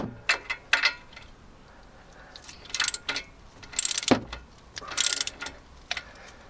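Ratchet tightening the bottom bolt on a Land Rover Discovery 2 front ACE ram, a faint series of short clicking bursts with brief pauses between strokes, close by in a quiet setting.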